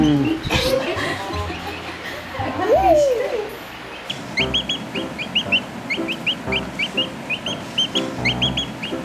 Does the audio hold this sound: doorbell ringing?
no